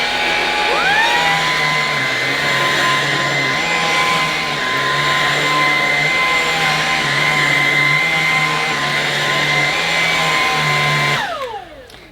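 A Dyson Ball Animal Multifloor vacuum cleaner runs steadily at close range with a loud, constant motor whine and airflow roar, shutting off and winding down near the end.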